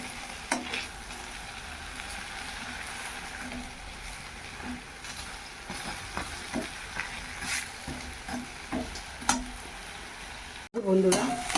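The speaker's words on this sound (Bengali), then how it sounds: "এই যে বড়াগুলো এরকম হয়েছে, একটু কড়া করেই ভেজে নিচ্ছি।" Fritters (bora) frying crisp in hot oil in a pan, a steady close sizzle with scattered pops and stirring scrapes throughout, ending in a brief louder clatter.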